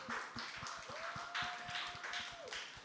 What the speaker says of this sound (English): let's give Piff a round of applause